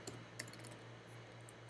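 Keys on a computer keyboard clatter faintly and quickly in a short burst of typing while someone writes code, with soft background hum and no speech.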